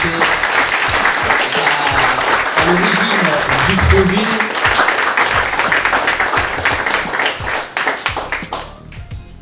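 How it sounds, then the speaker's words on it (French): An evening event audience claps loudly and steadily for the honorary president of the CEM, a dense sustained round of applause with voices underneath that thins and fades toward the end. "qu'on peut applaudir très très fort"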